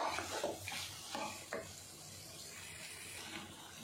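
Masala with raw mango frying in oil in a pan, a few quiet stirring scrapes early on over a soft, steady sizzle, no voices.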